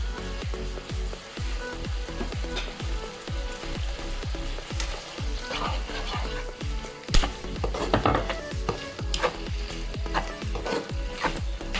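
Sauce of sriracha and dark soy sauce sizzling in a pan while being stirred, with steady crackling frying and rhythmic scraping and knocking strokes, close and fairly loud.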